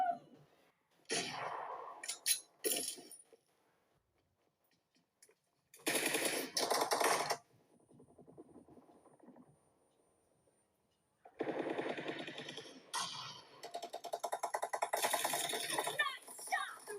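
Bursts of automatic gunfire from the BGMI mobile game play in rapid rattling volleys separated by quieter gaps, with faint game sounds in between.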